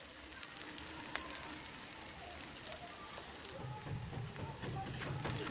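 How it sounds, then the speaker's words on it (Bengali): Chopped onion and chili sizzle in hot oil, a steady crackling hiss with scattered pops, moderately quiet and continuous with no talk. "গরম তেলে পেঁয়াজ কুচোনো, লঙ্কা কুচোনো ভালো করে ভেজে নেব, একটু লাল লাল করে।"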